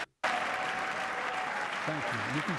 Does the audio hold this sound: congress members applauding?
yes